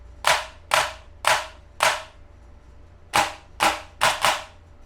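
A Logic Airsoft Daniel Defense DDM4 MK18 electric airsoft rifle fires single shots in semi-auto, eight sharp close cracks in two bursts of four with a short pause between them.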